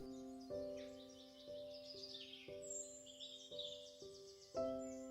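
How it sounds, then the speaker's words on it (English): Birds chirping in a meadow, a series of bright, quick twittering calls layered over one another, fairly faint, above a sustained low tonal drone that pulses at regular intervals. "the birds that chirp,"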